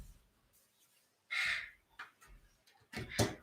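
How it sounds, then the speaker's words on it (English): Gull-like calls sound at the back of a quiet indoor room, with a few short, harsh cries in separate bursts over a low background. "Oh, I've got seagulls at the back."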